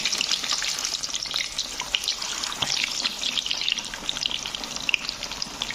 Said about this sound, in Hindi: हमारा ये तेल गरम हो गया, आप देख सकते हैं माशाल्लाह। इसके अंदर हम एक एक पीस डालेंगे उठा के।